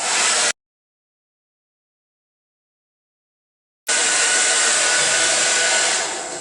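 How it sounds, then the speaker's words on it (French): A hair dryer running on its medium setting while drying hair gives a steady, loud, breathy whoosh, cut off abruptly for about three seconds before switching back on and easing slightly toward the end. "pour le sèche-cheveux, il faut utiliser au medium, au moyen, le setting."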